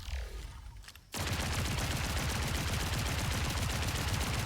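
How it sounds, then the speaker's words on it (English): The Perforator submachine gun fires in a video game: a quieter, swelling lead-in cuts sharply into loud, rapid, continuous automatic fire that runs to the end. "This submachine gun. This is the perforator,"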